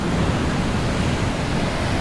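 Big surf breaks at Sunset Beach on Oahu's North Shore, a continuous broadband roar of crashing and rushing water with some wind noise on the microphone, no voices.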